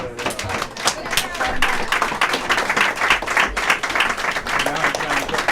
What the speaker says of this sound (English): Getting into clapping because sheet 2 came out.